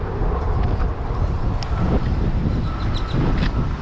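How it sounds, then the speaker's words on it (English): Strong wind blows outdoors, buffeting the microphone with a loud, continuous rumbling roar and gusty fluctuations throughout. "Man, it is so freaking windy out."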